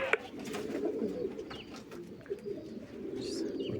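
Domestic pigeons cooing softly and repeatedly at moderate distance, with a few faint chirps scattered through.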